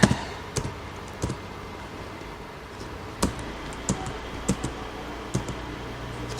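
Someone types on a computer keyboard, with sparse, separate clicks spread across several seconds, nearby and fairly crisp against a quiet room.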